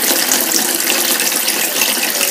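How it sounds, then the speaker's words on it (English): Cold water runs loudly from a tap into a basin holding carrots, a continuous close splashing rush with no break and no voices. "I'm putting it in the basin and softening it with cold water"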